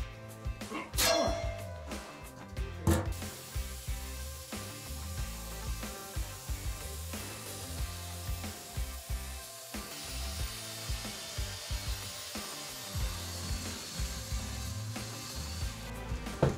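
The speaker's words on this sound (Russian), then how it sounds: "Для зачистки берем металлическую щетку, специальная насадка для болгарки." An angle grinder fitted with a wire brush attachment scrubs the metal of a homemade sauna stove, a harsh, continuous scraping and whirring that rises and falls as the brush is worked across the surface.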